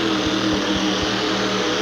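Twin-blown Chrysler monster truck engine roaring steadily during indoor racing in the Houston Astrodome, a dense continuous drone with faint regular pulses, heard from a distance through the arena.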